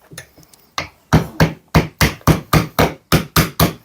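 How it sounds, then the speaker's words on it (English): Repeated sharp hammer blows drive a flat knife blade in behind a skirting board, a few lighter taps followed by a steady run of about ten firm hits, close by. "then we just take our hammer and hammer that in"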